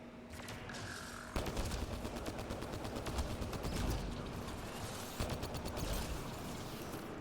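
In Mass Effect Andromeda, a destroyer fires a dense, continuous barrage of rapid gunfire that stays loud and steady throughout, with heavier bursts at a couple of points.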